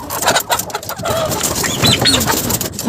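Turkeys, guinea fowl and chickens in a poultry yard fill the air with loud, close calls: overlapping clucks, coos and squawks, with short rising cries breaking through a busy, constant flock noise.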